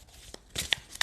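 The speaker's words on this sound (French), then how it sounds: "je vais tirer une dernière carte avec le tarot des flammes jumelles." A card slid and drawn from a tarot deck, a few quick papery swishes and flicks, close and crisp, with no talking.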